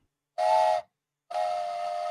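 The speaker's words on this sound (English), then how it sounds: "This is going to be a sad train whistle for you." Two blasts of a mournful steam train whistle from a video game, a short one followed after a pause by a longer sustained one, loud and clear with no talking.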